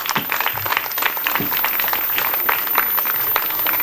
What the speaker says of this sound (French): Veuillez applaudir nos plaideurs